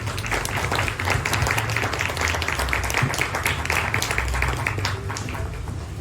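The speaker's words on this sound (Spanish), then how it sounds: "Pido de nuevo un aplauso muy grande para Óscar Molina." An audience at a book launch claps in steady, dense applause that carries on for several seconds and eases slightly toward the end.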